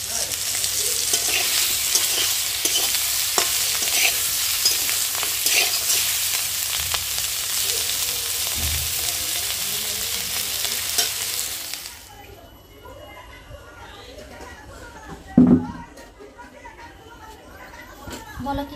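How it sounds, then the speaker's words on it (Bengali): Spiny gourd (kakrol) frying in a pan gives a steady bright sizzle with occasional stirring clinks for most of the time, then stops, leaving quieter kitchen sounds and a thump. "আর এইদিকে এখন করছি কাঁকরোল ভাজা।"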